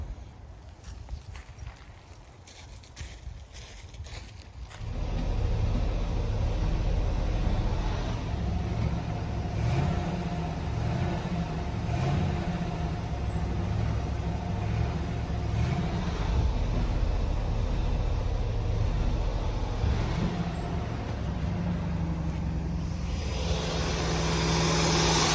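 A 1985 Chevrolet C10 engine catches and runs for the first time in 12 years, settling into a loud, steady, slightly uneven rumble close by after a few seconds of quieter fumbling.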